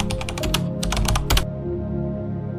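A computer keyboard is typed on in a quick burst of about a dozen close, crisp key clicks lasting under a second and a half, followed by a low quiet hum.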